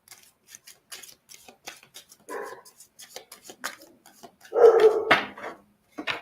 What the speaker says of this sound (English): I apologize for my pup in the background.